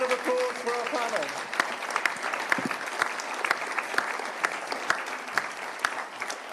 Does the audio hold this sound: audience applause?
yes